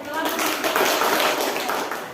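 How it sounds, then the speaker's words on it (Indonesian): A classroom group gets applause: a dense, continuous patter of many hands clapping together for about two seconds, fairly near and even in volume. "tepuk tangan untuk kelompok 4"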